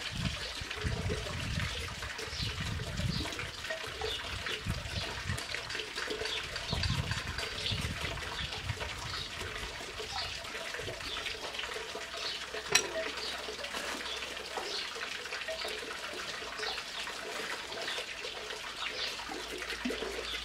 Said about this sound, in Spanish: Así que sustrato y el agua que corra de arriba hacia abajo.